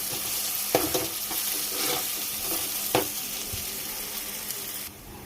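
Onions sizzle and fry in a pan while being stirred, a steady hiss with several sharp scraping clacks of the spoon against the pan, close and continuous, with no talk.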